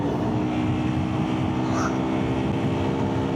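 A car engine revving hard near its redline during a drive in Cornwall, a steady loud droning roar with constant road and wind rush throughout.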